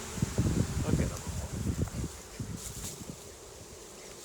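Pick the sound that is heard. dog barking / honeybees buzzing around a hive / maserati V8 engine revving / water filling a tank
honeybees buzzing around a hive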